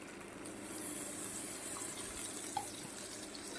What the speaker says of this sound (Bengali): আর দিয়ে দেবো সামান্য একটু জল।